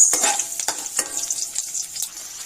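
Garlic sizzles in hot oil in a pan, a bright, fairly loud hiss with a few quick stirring scrapes over a couple of seconds, heard close up.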